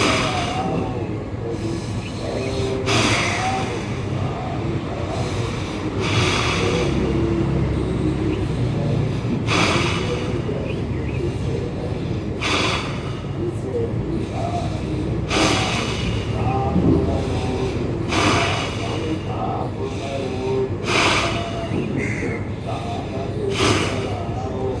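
Forceful nasal exhalations in a yoga breathing exercise come as sharp, repeated bursts of air at a roughly steady rhythm, about ten in a row, with room noise between them.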